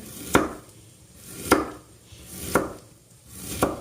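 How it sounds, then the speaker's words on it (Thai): Four slow, evenly spaced chops of a knife cutting chicken on a cutting board, each a sharp thud, close and clear against a quiet background. "หลังจากนั้นเราก็จะเอามาหั่น"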